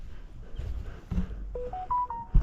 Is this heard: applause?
no